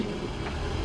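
Electric cooling fans on a school bus being converted into a skoolie run with the key switched on, a steady loud whirring drone with low rumble, continuous and unchanging, no voices.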